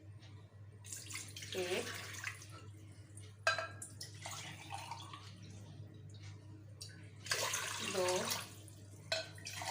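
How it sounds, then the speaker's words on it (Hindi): Water pours in several bursts, splashing into a metal pressure cooker, with someone speaking briefly between the pours. "सबसे पहले मैं कुकर में 4 गिलास पानी डालूँगी"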